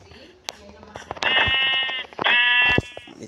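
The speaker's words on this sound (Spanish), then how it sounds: "Hay una abeja ahí. Una oveja." Sheep bleating in the game Minecraft, two drawn-out nasal bleats in quick succession, clear and close, with a person talking around them.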